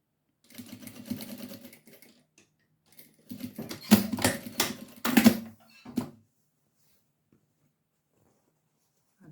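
A sewing machine stitching the hem band of a baby bib, several short bursts of rapid needle clatter separated by pauses, close and fairly loud, no talking.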